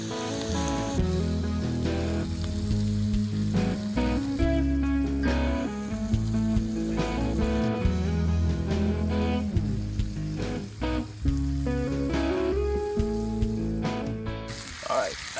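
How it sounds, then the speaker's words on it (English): Venison heart steaks sear in butter in a hot pan, a continuous close crackle under a layered tonal background. "Listen to that sizzle."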